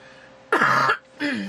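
Two harsh throat-clearing coughs, close and loud, separated by a short pause.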